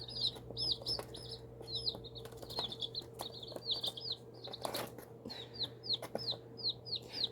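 Baby chicks cheep in quick, high, repeated chirps with occasional soft clucks, coming in bursts close by over a constant low electrical hum.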